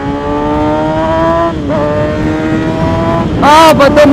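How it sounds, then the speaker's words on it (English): A Kawasaki ZX6-R 636 sport motorcycle engine holds a loud, close, high-pitched drone, dips briefly, then rises in sharp revs near the end with quick throttle blips. "Oh, the noise of a 600."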